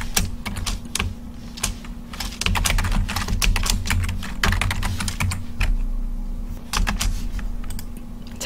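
Rapid, steady computer keyboard typing while code is written, close and busy, with bursts of keystrokes over a low electrical hum.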